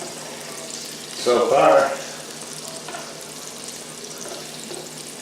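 Liver and onions fry in a pan with a soft constant sizzle, broken by a louder burst of stirring and scraping about a second in; someone speaks briefly over it.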